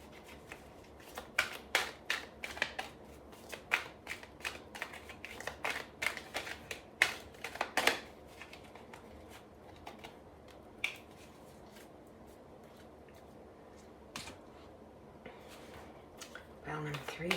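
Tarot cards are shuffled up close in quick bursts of crisp riffling and tapping, with pauses between the bursts. A soft voice talks over parts of it.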